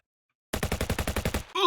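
Automatic gunfire in the video game Full Metal Sergeant 2: a rapid burst of about nine evenly spaced, loud shots lasting under a second, followed by a brief louder blast.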